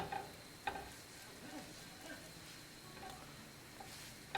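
Butter melting in heated vegetable oil in a pan, a faint quiet sizzle with a few light clicks of utensils against the pan.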